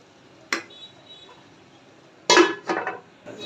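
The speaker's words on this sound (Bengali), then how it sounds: "দিয়ে ঢাকনা দিয়ে দেখে দিব" A metal lid clanks onto a cooking pan holding snake gourd frying with chillies: one light tap, then a louder clattering knock followed by a couple of smaller rattles, close by.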